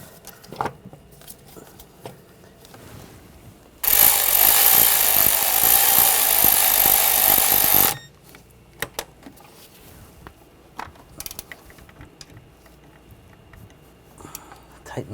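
A power tool tightening starter bolts on a 2009-2013 BMW 328i xDrive with a 3.0L inline-six runs in one loud continuous whir of about four seconds, framed by quieter clinks and handling noises.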